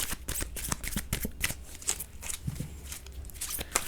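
A deck of tarot cards is shuffled up close in a steady run of quick riffling flutters and soft slaps, with no talking.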